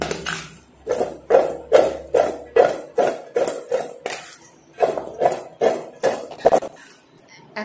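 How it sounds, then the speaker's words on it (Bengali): Raw mango pieces being tossed and mixed with salt and turmeric in a metal bowl, a fast series of loud, rhythmic clinks and knocks in two runs, close up and without talk. "এবার আমটাকে ভালো করে মিশিয়ে নেব নুন হলুদ দিয়ে।"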